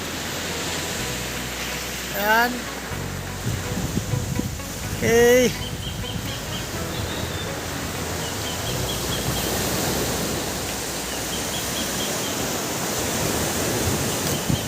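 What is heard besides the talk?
sea waves at the shore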